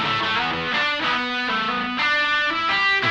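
An electric guitar played through a Mad Professor BlueBird Overdrive pedal with the gain raised, a short crunchy run of sustained chords with thick, tight low end, close and continuous with no talking.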